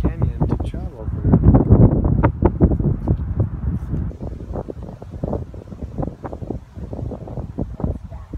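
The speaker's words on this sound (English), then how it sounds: "There's this wind coming through the valley here." Wind gusting through a canyon valley in Cleveland National Forest, California, buffeting the microphone in loud, ragged bursts that build early and then ease to a lighter, uneven rumble.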